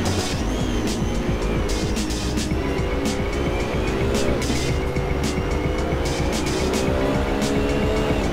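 GT3 race cars, including a Nissan GTR and a BMW, race at Imola in the Assetto Corsa sim game, their engines roaring loudly and continuously as they rise and fall through gear changes.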